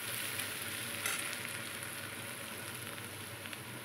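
Loitta fish curry frying with chopped chili and crushed garlic makes a constant, faint sizzling hiss with light crackles, steady and undisturbed from start to finish.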